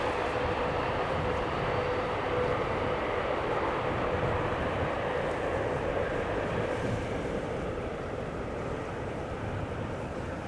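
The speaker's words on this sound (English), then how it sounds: "It sounded a lot like it applied the reversers for a moment there" A jet airliner landing at Amsterdam Schiphol Airport with thrust reversers engaged, a loud, continuous broadband roar that holds steady and eases slightly near the end.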